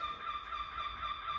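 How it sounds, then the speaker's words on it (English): Birds calling outdoors, a steady mass of honking, fowl-like calls that blend into a continuous chorus at moderate distance with no talk. "Hear the birds?"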